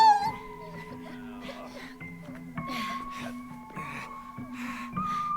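A cat in the video game It Takes Two gives short meows and yowls over tense game music, with voices talking now and then.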